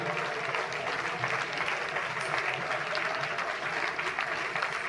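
A congregation claps steadily at a Hindi church prayer service, a soft, even wash of many hands heard at a distance without pause.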